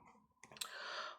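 Four-sided dice tumble onto a surface, a quick burst of small clicks and rattles that settles into a brief scatter, close and fairly faint.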